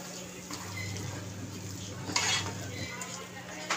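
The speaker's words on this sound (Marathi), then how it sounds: "डाळीबरोबर चांगलं हे सगळं मिक्स करून घ्यायचं. कांदा टमॅटो सर्व मिक्स करून व्यवस्थित" Chana dal with onion and tomato being stirred in a pan for zhunka, with a steady soft scraping and a faint sizzle, a louder clatter near the middle and a low hum underneath.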